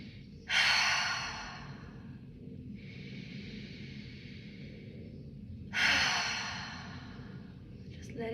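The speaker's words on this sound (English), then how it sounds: "Take a nice deep breath." A deep breath taken during guided meditation: two long, close inhales, each with an airy rush, separated by a slow, softer exhale over a low steady background hum.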